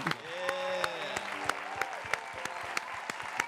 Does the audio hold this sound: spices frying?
no